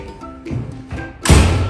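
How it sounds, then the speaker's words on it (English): The front door of a house opens with a couple of soft thumps and knocks followed by a louder rattling clunk as it swings in. "Come in the front door."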